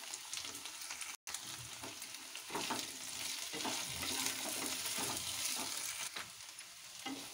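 Finely chopped onion and green chilli frying in a pan for aloo gobi matar sabzi, a loud dense sizzle throughout with scraping stirs, broken by one brief silent gap.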